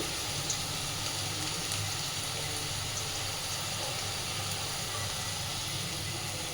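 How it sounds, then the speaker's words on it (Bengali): Onions frying in a pan with salt added, for a Bengali egg and red lentil tarka: a steady, dense sizzle and hiss that holds evenly throughout with no talk over it. "এবার এগুলোকে একটু ভেজে নেব পেঁয়াজের মধ্যে আমি একটু লবণ দিয়ে দিচ্ছি"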